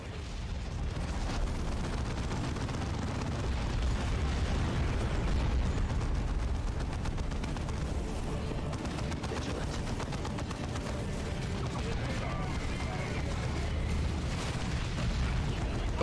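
Continuous heavy rumble of battle explosions in Dawn of War 2 on hard mode, where a melta bomb detonates against a large enemy amid steady, dense, booming combat noise without clear pauses.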